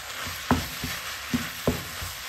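Chicken kottu parotta being stirred with sauce in a pan: a steady close sizzle punctuated by a few irregular scraping and clacking strokes of the utensil, no voices.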